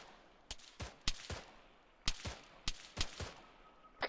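Machine gun fire from an MG team in ARMA III: a dozen or so sharp gunshot cracks in short, irregular clusters, moderately distant, with no talk over them.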